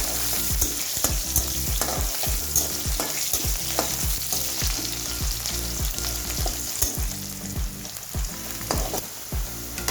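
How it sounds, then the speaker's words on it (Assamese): Onions fry in hot oil with panch phoron and dried chillies, cooking until lightly browned; a continuous close sizzle runs under frequent rhythmic spatula scrapes and stirs, loud and steady with no talking. "পিঁয়াজখিনি অকণমান ব্ৰাউন হোৱালৈকে ভাজি ল'ম।"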